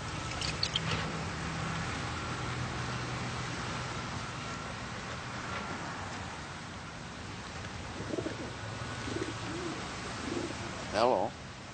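A pigeon coos several times, soft and fairly close, over a low background hum, with a few faint other sounds around it.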